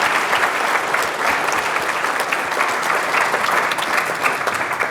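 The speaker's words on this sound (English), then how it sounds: "How about a big round of applause for our wonderful panel?" A room full of audience members claps for a panel on California water management, a sustained, even burst of close, loud applause with no voices rising above it.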